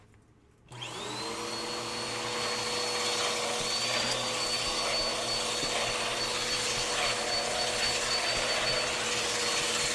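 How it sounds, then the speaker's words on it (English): An old Sanitaire upright vacuum cleaner switches on after a brief quiet moment, then runs with a steady, loud whine and roar close by. "I think this vacuum works."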